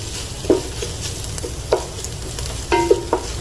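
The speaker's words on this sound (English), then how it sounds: "so I'm adding some ghee. To the onions." Ghee sizzling over already cooked onions in a pan for butter chicken, a steady frying hiss with three or four sharp spoon scrapes and taps, close with no talk.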